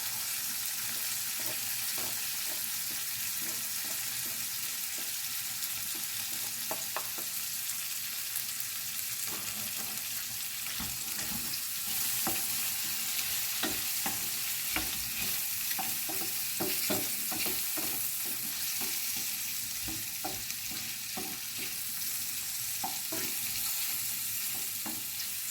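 Shrimp and garlic fry in a foaming pan with a steady, close sizzle, broken by frequent scraping and clicking as they are stirred, for about half a minute with no talking.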